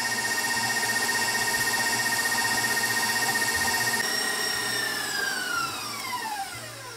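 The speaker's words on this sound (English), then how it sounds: "He said to beat this for 5 to 10 minutes, scraping down the sides." An electric mixer whips honey with a loud, steady high-pitched whine that holds for several seconds, then winds down in pitch as the motor slows near the end; no talking.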